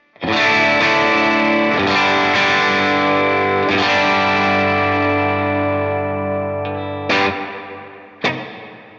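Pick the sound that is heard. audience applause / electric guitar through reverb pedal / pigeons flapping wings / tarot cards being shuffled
electric guitar through reverb pedal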